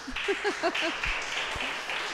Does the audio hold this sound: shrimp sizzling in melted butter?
no